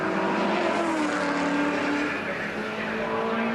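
A race car at the 1975 Hardie Ferodo 1000 touring car endurance race pulls into the pits for a stop, its engine droning loudly and steadily with shifting pitch throughout, with no voices over it.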